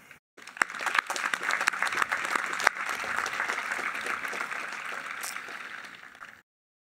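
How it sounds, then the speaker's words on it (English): Audience applause at the Cinnaminson High School graduation ceremony: a large crowd claps steadily for about six seconds, dense and even, with a few sharper claps standing out, then it cuts to silence. "I would love to join you in a round of applause for each and every one of you."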